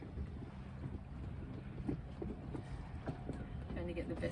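Wind gusts across the fly bridge of a moving yacht, a steady close rumbling buffet with soft water movement beneath, continuous and fairly quiet throughout.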